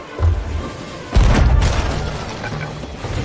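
A cannon in a pirate-ship video game fires a cannonball with a deep booming blast, followed by rumbling low-end noise and a second heavy burst amid ongoing battle sounds.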